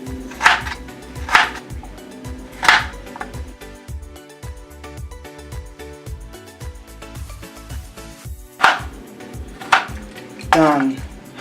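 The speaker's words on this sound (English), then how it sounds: "I have 7 large potatoes here, cut into round slices. Next, cut into strips." A knife cutting sliced large potatoes into strips on a board: loud, regular chopping knocks in clusters, with softer taps between them, close by and with no talk.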